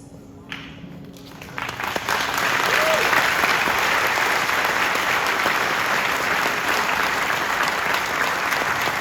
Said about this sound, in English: On l'applaudit encore plus fort. Standing ovation, please.